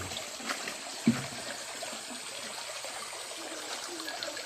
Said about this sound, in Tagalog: Yung tubig niya, flowing lang siya.